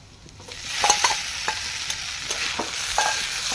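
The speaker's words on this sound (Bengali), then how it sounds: "এইভাবে একটু নাড়িয়ে নিচ্ছি" Potatoes and eggplant are stirred into onions frying in a pan for a classic Bengali rohu fish dish, giving repeated close scraping strokes over a steady soft sizzle, with no talk.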